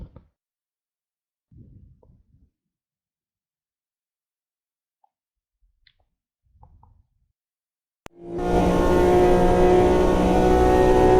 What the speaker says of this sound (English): let's hear this engine roar